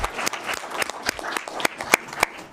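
Scattered, uneven clapping from a small audience at a Westminster city council meeting, individual sharp claps spaced irregularly over a couple of seconds rather than a full ovation.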